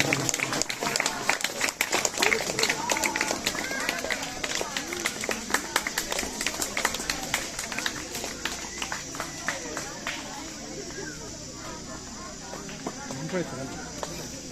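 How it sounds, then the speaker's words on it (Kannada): Loud applause from an audience at a school library inauguration ceremony, dense rapid clapping filling the whole stretch, strongest at the start and gradually thinning toward the end. "ಜೋರು ಚಪ್ಪಾಳೆ ಮೂಲಕ"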